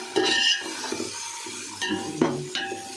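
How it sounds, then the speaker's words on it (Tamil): Tomatoes sautéing in a pan for chicken biryani: a soft sizzle under several distinct scrapes and clinks of a spoon stirring against the metal, close up, with short gaps between strokes. "தக்காளி போட்டுருவோம் தக்காளி நல்லா வதக்கிக்கலாம்"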